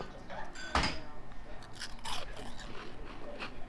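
Crispy fried food breaks in a snap test with one sharp, loud crunch near the start, followed by softer crackles and scraping rustles at close range.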